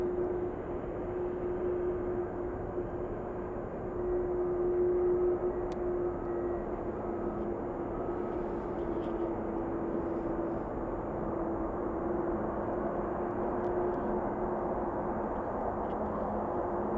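A Boeing 747 airliner lining up on the runway at Anchorage airport in freezing weather, a steady distant engine drone with a faint whine, constant and unbroken.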